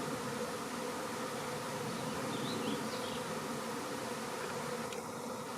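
A May swarm of honeybees streams into a hive, a dense, unbroken buzzing drone that stays loud and even throughout, with no voices.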